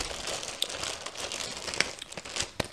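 Crinkling of a plastic bag full of cross-stitch supplies such as stretcher bars and floss bags, rustled up close in short irregular bursts with a few sharper crackles.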